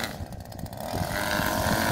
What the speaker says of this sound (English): let me get back on the mower